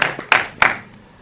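A few sharp, separate handclaps at a press conference for a film trailer and poster launch, three distinct claps spaced evenly and close by, fading into a quiet room.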